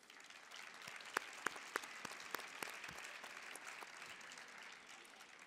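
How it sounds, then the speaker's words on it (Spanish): An audience at a forum on the eurozone crisis gives a speaker a faint, distant round of applause, with a few sharper claps standing out near the start before the clapping thins and fades. "Una ovación para ella, ¿no?"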